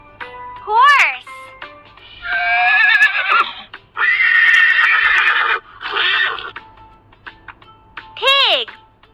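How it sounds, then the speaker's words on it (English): A horse whinnies loudly near the start and again at the end, each a rising then falling neigh, with other broad animal-like calls filling the gap between. "Horse."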